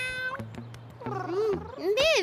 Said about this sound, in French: il est trop fort, ça c'est mon chat.